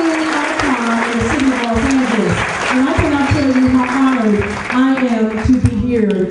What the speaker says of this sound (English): Let's give this woman another round of applause.